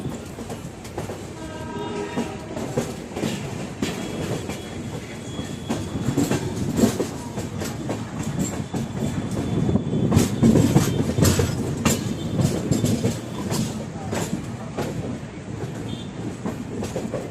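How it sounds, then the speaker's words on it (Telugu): A passenger train on the Karimnagar to Bhopal route runs through Madhya Pradesh with a continuous rolling rumble and rhythmic wheel clatter that swells midway, while a distant horn sounds faintly. "మన ట్రైన్ ఇప్పుడు ఇలా వస్తుంది"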